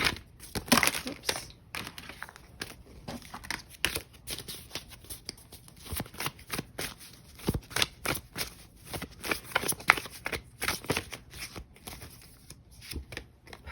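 Tarot cards are shuffled by hand in a run of quick, close, crisp riffling bursts and flicks that repeat irregularly throughout, with no talking.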